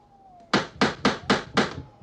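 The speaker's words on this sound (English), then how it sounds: "Knock on the door, Terry." Five firm, evenly spaced knocks on a door of a large old house, close and sharp, following a brief quiet pause.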